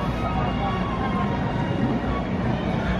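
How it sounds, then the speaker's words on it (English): A train rumbles steadily at the Magic Kingdom railroad station in Disney World, a continuous mid-distance roll with faint crowd murmur beneath. "The train station."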